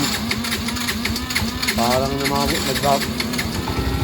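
A Yamaha Mio i125 scooter engine idles with a misfire, chugging and uneven, while a person talks over the engine noise up close.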